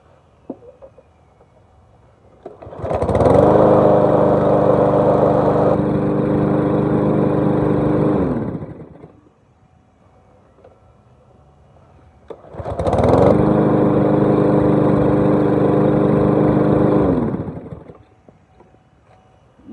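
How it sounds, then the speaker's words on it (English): A small gasoline engine on a power washer runs in two separate bursts of about five seconds each. It sounds loud and steady and close by, with a short quiet gap between the bursts and no talking. "that's the power washer running"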